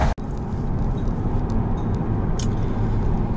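A tuned BMW N55-engined car drives along, its steady low engine and road rumble filling the cabin at an even level, with a brief click at the start and a few faint knocks.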